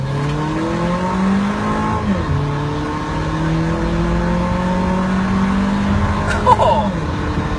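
Honda CR-V fitted with an AZC turbo and AZC exhaust accelerating hard, its engine note rising in repeated climbing sweeps through the gears, loud and close throughout.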